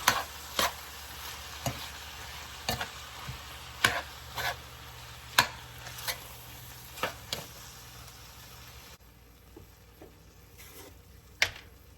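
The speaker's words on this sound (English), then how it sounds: "now we're just going to give that a good mix and let all that simmer together" A ground beef mixture simmers in a pan, a low steady sizzle under repeated sharp scrapes and knocks of a utensil being stirred through it, the stirring fading to a few isolated strokes near the end.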